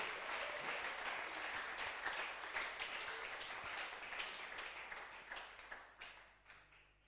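Congregation applauding in a church service, dense sustained clapping from many people that gradually thins and tapers toward the end.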